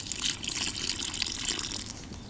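Water pours steadily into a fishing groundbait mix for feeder fishing, a continuous close splashing gush with a slight rise and fall and no talk.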